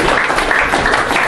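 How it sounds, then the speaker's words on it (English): An audience at a rugby club jumper presentation night in a South East London pub claps in a brief, dense burst of applause. "I think that's worth a round of applause for starting."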